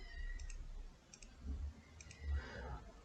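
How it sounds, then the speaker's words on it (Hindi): Mouse clicks on a computer while the Alt key is held to zoom out in Adobe Illustrator, a few faint, soft taps spaced about a second apart over quiet room noise. "जस्ट आल्ट का बटन जो है वो प्रेस रखूँगा और क्लिक करता जाऊँगा"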